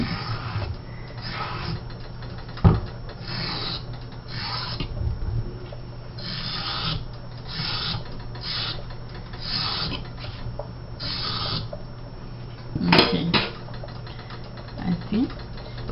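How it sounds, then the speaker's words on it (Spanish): A fork scoring decorative grooves along a peeled cucumber, close-up rhythmic rasping and rubbing strokes repeating through the clip, with a louder scrape or knock near the end and steady low background hum. "Ya tengo aquí el pepino sin cáscara y yo con un tenedor le hago unos sus adornos al pepino."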